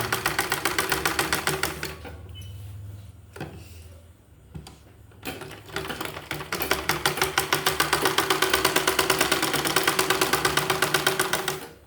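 A sewing machine stitching a dart on a blouse, a fast, even mechanical rattle of needle strokes that stops for a few seconds and starts again, close and loud with no talk.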